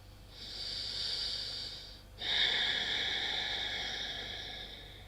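Slow, steady breaths during a yoga pose in a studio class, a long airy exhale followed after a short break by another deeper one, soft and close, with no talk.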